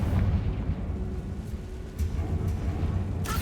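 A Confringo blasting spell explodes inside a spider-infested tomb in Hogwarts Legacy, a deep rumbling boom with rolling low-end debris noise that sustains for several seconds, loud and close, with a faint crackle near the end.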